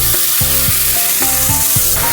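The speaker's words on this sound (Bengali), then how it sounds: "এই পেঁয়াজ বাটাটা এর মধ্যে দিয়ে দেবো প্রথমে" Paste of two large onions frying in white refined oil sizzles loudly and steadily up close, with a quick series of rhythmic scraping stirs over the hiss and no talk.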